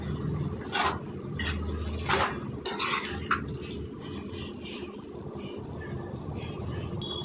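Dry fish tomato curry being stirred in a pan, a spoon scraping and clinking against the metal in a few short bursts over a low steady simmer, with no talking.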